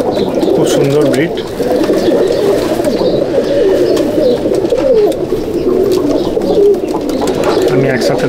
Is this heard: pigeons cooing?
yes